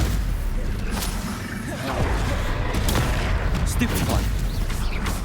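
Stupefy spell cast in Hogwarts Legacy, a dense burst of magical impact with booming, crackling blasts running steadily through the whole stretch, loud and close, with a voice calling out over the action.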